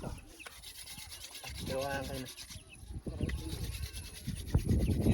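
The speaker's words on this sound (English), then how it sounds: "So they're displaying how the fire is made with two sticks." Two wooden sticks rubbed together by Maasai villagers to make fire near the Masai Mara in Kenya, a dry scraping friction that runs steadily through the clip beneath voices talking nearby.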